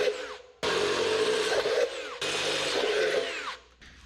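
A power drill bores stepped-up holes through the metal dash of a 1963 Loadstar truck, two loud whining bursts of several seconds each, separated by a short pause, with no voices.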